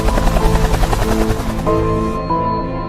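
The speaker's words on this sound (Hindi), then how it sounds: "हेलीकॉप्टर की आवाज सुनकर सारे लोग ऊपर देखने लग जाते हैं।" Helicopter in the Free Fire video game passing overhead, a loud steady rotor drone mixed with busy game music and effects, no voices.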